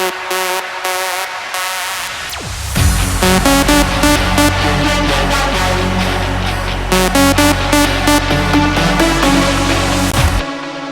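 An electronic dance track builds from a filtered intro through a sweeping riser into a loud, pulsing section with heavy bass and rhythmic synth chops.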